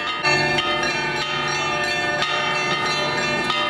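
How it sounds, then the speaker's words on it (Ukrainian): Church bells at the St. Sophia bell tower, rung by a priest, peal continuously in a dense, loud, overlapping clang with rich ringing overtones and no voices. "На Софіївській дзвіниці священик Іван Сидор, який п'ять років тому за часів майдану підтримував людей дзвонами."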